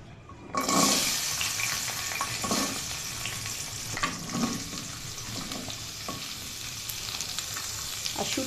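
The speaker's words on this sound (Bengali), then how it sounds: "এই যে মরিচগুলোকে এইভাবে করে ভেজে নেব, বেশি ভাজবো না, একটু হালকা ভেজে নেব।" Green chilies fry lightly in a hot pan for a Bangladeshi shutki bhorta, a steady broadband sizzle that starts abruptly and holds at moderate level, with occasional soft stirring scrapes and no talk.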